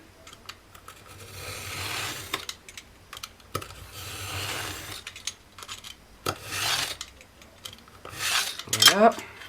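Cardboard being cut for a homemade desk organiser, a rasping, scraping blade stroke repeated in several bursts with short pauses, close and fairly quiet.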